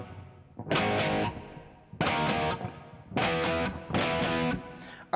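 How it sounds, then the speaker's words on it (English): Heavy distorted electric guitar plays a verse part of a song, four loud sustained power-chord bursts with short gaps between them, rhythmic and alone with no talking. "now in the verse, we got this heavy guitar part that comes in"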